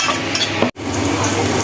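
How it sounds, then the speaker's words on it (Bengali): Onions for a meat curry fry in hot oil, a loud close sizzle with a stirring scrape; the sound cuts out for an instant midway, then resumes as before. "যে পেঁয়াজটা ভেজে নিচ্ছি"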